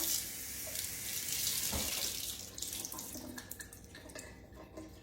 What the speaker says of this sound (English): so I'm gonna rinse my tuna